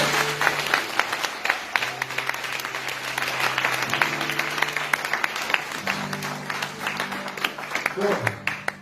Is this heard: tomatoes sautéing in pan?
no